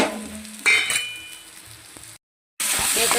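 Green chilli masala with turmeric and chopped coriander sautés in a pan for bottle gourd curry, a close sizzle with a spoon clink and stirring. The sound drops out briefly, then returns louder.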